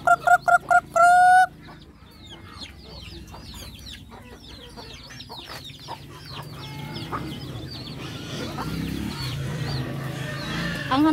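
Several loud rooster-like calls burst out at the start, then softer chicken clucks and chirps carry on over steady farmyard noise.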